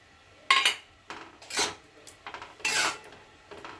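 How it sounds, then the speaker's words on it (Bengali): Dry-roasted cumin seeds and black peppercorns being ground to powder, heard as irregular bursts of gritty scraping and rubbing that rise and fall, close and fairly clear. "জিরে আর গোলমরিচ শুকনো খোলায় ভেজে নিয়েছি এটাকে এখন গুঁড়ো করব"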